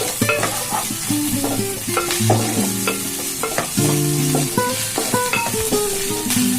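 Garlic and crushed cumin paste fries in a pan for a pikkala curry, with a loud close sizzle and repeated scraping and knocking of a ladle against the metal, and no speech.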